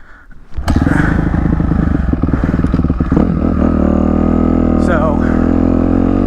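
A dirt bike fitted with upgraded suspension, its engine starting up loud and close, then a rough rattling idle and revs, with a rider speaking briefly over the motor.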